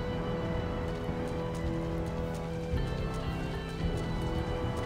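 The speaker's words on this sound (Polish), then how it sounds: "To kurwa jest radioaktywny pierdolący deszcz!" Radioactive rain falls in a video game as a steady, dense hiss of droplets spattering on surfaces, continuous and fairly loud throughout with no voices.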